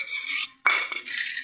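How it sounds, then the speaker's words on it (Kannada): A knife cuts green chillies for a village-style chilli recipe: a short burst of close, crisp scraping and clicking, a brief pause, then more chopping and scraping. No one speaks. "ಕಟ್ ಮಾಡ್ಕೊತಾ ಇದ್ದೀವಿ ಇದನ್ನ."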